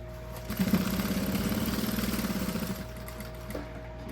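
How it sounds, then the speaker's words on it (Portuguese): A sewing machine stitches the side seam of a backpack pocket, a steady rapid mechanical run of about two seconds, close and moderate in level, then falling quiet. "vou passar uma costurinha na lateral"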